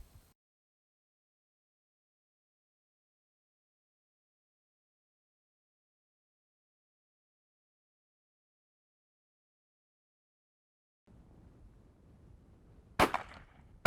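A single sharp shotgun blast during a dove hunt in South Texas rings out once near the end, preceded by quiet outdoor ambience and otherwise near silence.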